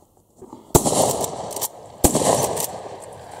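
Two sharp, loud shotgun blasts from an Uzkon LA887 lever action fired at thrown clay targets outdoors, spaced about a second and a half apart, each trailing a brief rolling echo.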